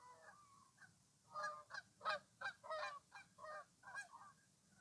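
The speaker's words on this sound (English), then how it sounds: "Hi, birds. Here they go. They saying hello." Geese honking outdoors, a series of loud, close calls coming in bursts, with a steady low rumble of background noise beneath them.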